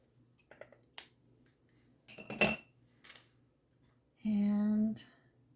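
Scissors snip through craft material in a few short, crisp cuts spaced across a quiet room, followed by a brief tonal hum.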